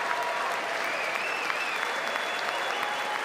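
A large crowd at the State of the Union address breaks into thunderous applause, a dense, sustained roar of clapping that fills the whole moment.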